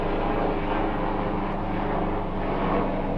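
A police helicopter passes overhead at night, its steady rotor and engine drone loud and continuous throughout with no talking.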